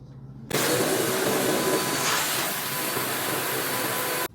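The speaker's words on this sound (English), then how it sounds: "Now that that's good, I'm gonna vacuum it up" A vacuum cleaner roars on abruptly close by, sucking up loose rug trimmings with a steady broadband whoosh for nearly four seconds before cutting off sharply.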